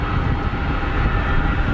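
Steady broadband roar of a Boeing 777 airliner at Geneva Airport, a continuous engine rumble heard from outside with no break across the short stretch.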